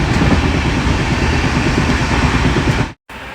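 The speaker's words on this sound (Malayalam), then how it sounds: "ഇപ്പം ട്രെയിൻ വരും, ഞങ്ങൾ ട്രെയിനിൽ കയറാൻ പോവുകയാണ്." A train in motion on a family trip in Kerala, heard as a loud, steady rumble and rattle of the carriage from close by, with a brief dropout near the end and no talking.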